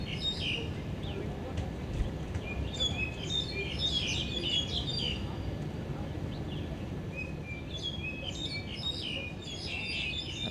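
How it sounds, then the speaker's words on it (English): Noisy birds chirp and tweet in bursts over steady outdoor background hum at a Kowloon Cricket Club match, moderately loud and fairly close, with no talk. "As all the very noisy birds move in to Kowloon Cricket Club"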